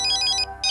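A phone ringtone chimes loud and close in short repeating electronic bursts, breaking off briefly with a gap before the melody starts again.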